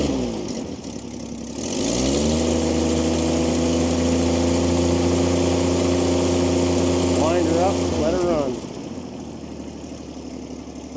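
An old Ford or Chevy engine starts up and settles into a steady, smooth idle, a low even rumble held close for several seconds, with a brief throttle blip near the end before it drops back to a quieter hum.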